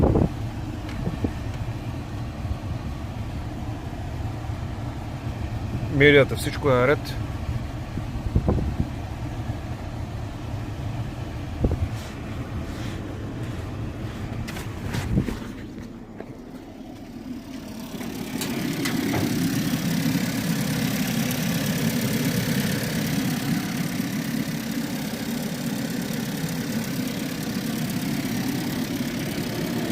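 Renault Talisman 2017 200 hp petrol engine idles with a steady, low hum, interrupted by a few clicks and a short spoken remark before settling into a slightly louder, even idle.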